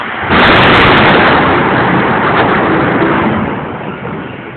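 Thunder right after lightning during a storm over flooded Messina: a sudden loud crack swells into a heavy, broad rumble that holds for several seconds and slowly fades.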